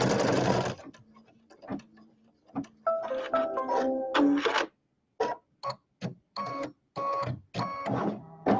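An embroidery machine stitches a quilt block in short, close bursts of rapid whirring and clicking, stopping and starting repeatedly.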